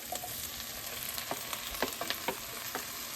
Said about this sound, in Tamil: இப்போ வெங்காயம் வதங்கிடுச்சு தக்காளியை போட்டுக்கலாம்